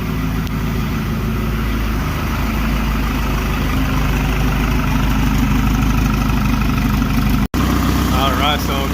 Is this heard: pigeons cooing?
no